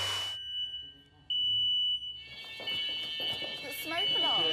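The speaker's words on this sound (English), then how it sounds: "Yep, insecticidal spray can set off your smoke alarms." A smoke alarm in a large rural château building, set off by insecticidal spray, shrills in high steady tones that stop and start, while people talk over it and move about nearby.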